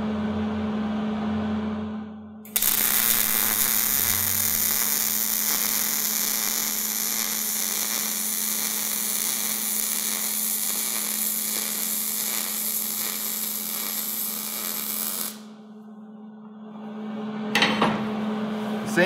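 MIG tack weld on a clamped workpiece: a loud, steady crackling buzz runs about thirteen seconds without a break, then stops abruptly. Quieter shop noise comes before and after, ending in a short clatter.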